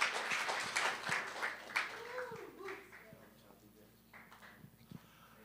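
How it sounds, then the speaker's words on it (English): An audience at a church service breaks into applause, a burst of clapping that is loudest at first and then tapers off over a few seconds with light background noise. "Another round of applause, Devin Miguel, Kylie Gamboa."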